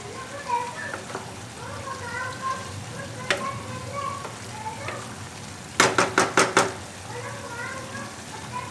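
Aloo methi palak sabzi of potato, fenugreek and spinach with salt and green chillies sizzles in a pan while a spoon stirs it, with a rapid burst of four sharp scraping clicks near the end and a voice talking over the frying.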